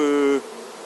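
Honey bees buzz on a brood frame in an orphan queen-rearing hive, a steady close hum with a strong tonal drone that drops to a softer buzz partway through.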